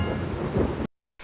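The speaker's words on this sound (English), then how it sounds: "it's in ruins and drenched in rain" Rain and rolling thunder from the 1999 Mac game The Cluefinders 5th Grade Adventures, set in a ruined village, rumble loudly for under a second before cutting to silence.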